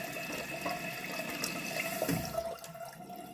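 Water runs continuously into a toilet tank past the water line and does not shut off, hissing and trickling steadily with small gurgles, close by and with no talking.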